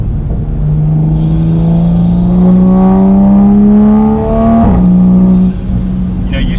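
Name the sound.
Toyota Supra with Magnaflow active exhaust downshifting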